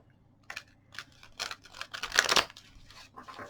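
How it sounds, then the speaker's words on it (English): A tarot card deck is shuffled by hand, making short papery riffles and crisp flicks in an uneven rhythm, close by with no talking. "let's try and do a shuffle"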